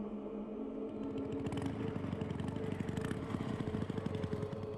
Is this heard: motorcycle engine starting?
yes